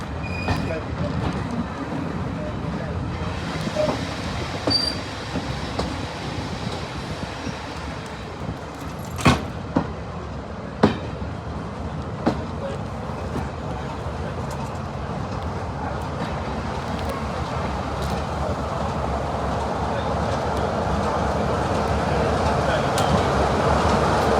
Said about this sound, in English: here I am departing Swanage on my final train of the day